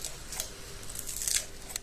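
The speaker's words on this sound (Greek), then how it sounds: "θα τον ψιλοκόψω πάνω σε μια σανίδα κοπής με ένα μαχαίρι ή και με ένα ψαλίδι κουζίνας" Kitchen scissors snip finely through herbs or vegetables on a cutting board while preparing Greek-style fasting falafel, a quick run of soft, crisp cuts close by with no talking.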